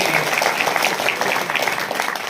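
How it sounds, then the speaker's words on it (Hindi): Applause from an audience at a Hindi poetry recital, a steady wash of claps spread evenly across the room and sustained without pause from start to finish, no voices rising above it. "एक बार ताली बजा के उत्साह दे दीजिए मुझे"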